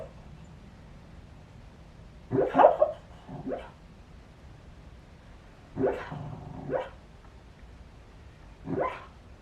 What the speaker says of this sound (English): She's barking in her sleep.